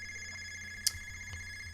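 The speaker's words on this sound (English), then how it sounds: "I know the phone's ringing" A telephone rings in the background, a faint electronic bell-like tone with one brighter burst, under a low steady room hum.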